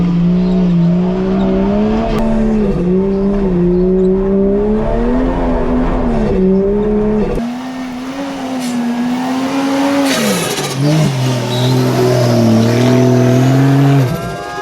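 A car in low range, third gear, accelerates hard across a straight desert track, its engine note climbing steadily and loud throughout, with a brief shift-like dip partway before pulling strongly again.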